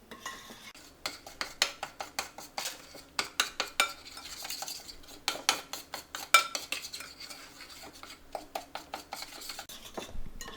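Gluten-free cane syrup cookie dough is mixed by hand in a bowl, making close, rhythmic scraping and stirring strokes with a few pauses, and no voices.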